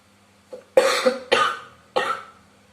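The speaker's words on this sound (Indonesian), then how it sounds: "kakak agak batuk-batuk dikit" A person coughs three or four times in a quick series, close and fairly loud, with short pauses between the harsh bursts.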